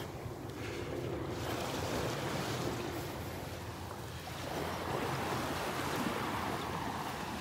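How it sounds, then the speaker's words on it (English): Steady, gentle beach surf washes in continuously at Delnor-Wiggins on a calm morning, a broad soft roar of small waves with light wind noise across the microphone and no voices. "The surf has really calmed down"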